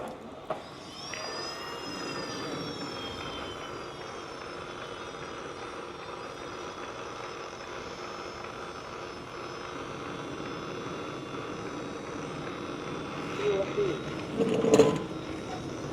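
A BVM F-100 model jet's turbine engine spins up from start with a rising whine that settles into a steady, even roar, and a few louder bursts come near the end.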